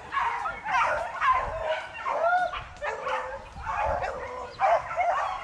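Hunting dogs bark and yelp repeatedly during a wild boar drive hunt, a run of moderately distant, rhythmic barks with whimpers between them, with faint voices in the background.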